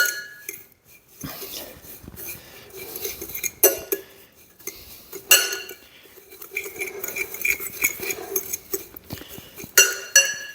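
Breadcrumbs being mixed with about two tablespoons of olive oil in a bowl for a Brussels sprout gratin, heard as a close series of irregular clinks and scrapes of a utensil against the bowl, with pauses between bursts.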